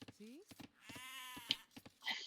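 Sheep bleating in Age of Empires II, a short rising game bleat that comes through under continuous commentary talk, close and clear.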